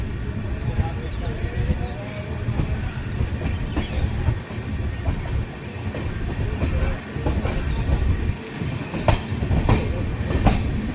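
The Amrit Bharat Express runs on its inaugural special journey from Howrah to Anand Vihar, Delhi, a continuous rumble with hissing and rhythmic wheel clatter, heard from on board, with people talking over the running noise.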